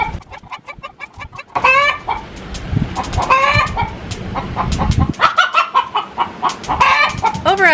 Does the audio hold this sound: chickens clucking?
yes